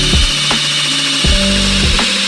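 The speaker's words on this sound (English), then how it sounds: "drill a hole for this to fit through this plate at the bottom" A power drill whines loudly up close, revving in short bursts with several thumps as it bores a hole through a wooden plate inside a camper van.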